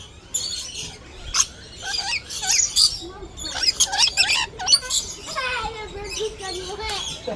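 Zoo birds squawk and screech at each other while fighting over a feed cup, a flurry of sharp, shrill calls in rapid irregular bursts, close and loud, with people talking underneath.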